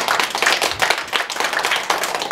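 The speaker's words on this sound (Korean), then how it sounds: "Let us clap for Jesus." Congregation at a church service clapping for Jesus, a close, lively burst of many hands clapping in quick, uneven rhythm throughout, loud and without talk over it.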